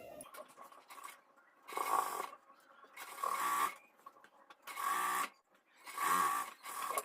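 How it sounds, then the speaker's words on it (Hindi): A sewing machine stitches an Afghani salwar in four distinct bursts of rapid whirring, each a second or so long, separated by short quiet pauses, close and clear. "अब यहीं से हमें सिलाई लगा लेनी है।"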